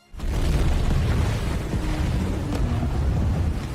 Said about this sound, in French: les munitions situées dans le fond de la Seine bougent et explosent.